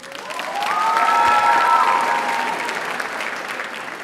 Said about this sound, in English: let's give them a big round of applause on an unbelievable season